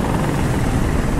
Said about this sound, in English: Thank you, helicopter.